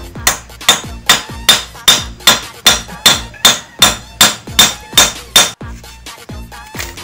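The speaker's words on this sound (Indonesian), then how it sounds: "si pakunya ini kita pukul sampai gepeng" Medium-sized hammer strikes a nail flat in a steady rhythm, about a dozen sharp metallic blows close up, evenly spaced and loud, with a couple of softer taps at the end.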